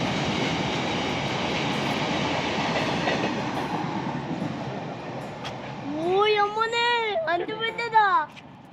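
A goods train rolls past a station with a continuous heavy rumble and clatter, and then a loud wavering horn sounds twice near the end.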